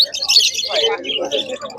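Caged budgerigars and other pet birds chirp at a busy pet market, with bright, rapid tweets overlapping close by above a low murmur of background voices.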